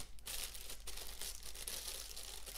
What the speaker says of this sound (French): je suis désolé pour le bruit du coup de sachet qui doit absolument vous détruire les oreilles